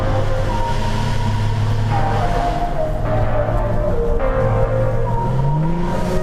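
An Audi S5 drives hard through a mountain road's curves, its engine a continuous close drone whose pitch climbs and falls as the revs change, with no talking.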